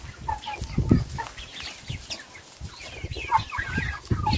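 Young chicks peep and cheep in a small pen, with several overlapping high chirps scattered through the moment and a soft hum behind them.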